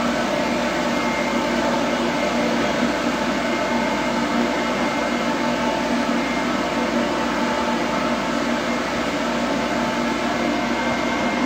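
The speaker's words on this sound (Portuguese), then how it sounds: "Não tem como secar o cachorro sem barulho." A powerful Plenitude Super Turbo pet blow dryer drying a dog during grooming roars continuously at a steady pitch, close and loud, with a constant whooshing airflow and motor whine throughout.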